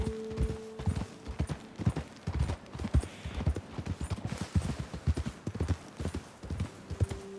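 Horse hooves clip-clop at a steady walking rhythm over ground in the Red Dead Redemption 2 video game, close and moderately loud, with a faint snort or whinny at the start and end.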